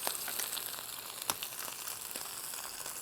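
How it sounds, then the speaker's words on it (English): Faint, steady sizzling hiss from a T-bone steak searing in a hot cast iron pan, with a few soft crackles and pops, no voices. "Hear the sizzle. I love that noise."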